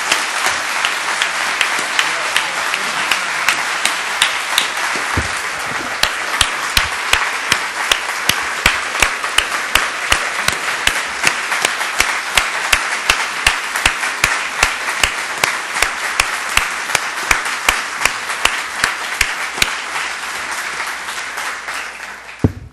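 A church congregation applauds at All Saints Episcopal Church in Pasadena, with sustained loud clapping from many hands filling the whole stretch, dense and even with sharper individual claps standing out.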